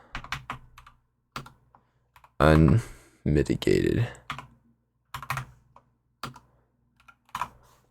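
Quick bursts of clicky typing on a computer keyboard sound close and dry, coming in short irregular runs separated by quiet gaps, with someone speaking briefly between the bursts.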